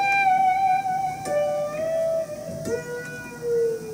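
Electric guitar played through its tone control to make orchestral, moody sound-effect swells: sustained gliding notes that shift pitch and fade in and out, with a few faint plucks, heard alone and fairly loud.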